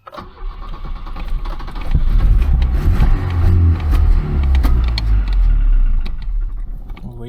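A Volvo car engine cranks and catches, then settles into a loud, steady low rumble close by, with some clatter through the running engine and no talk over it.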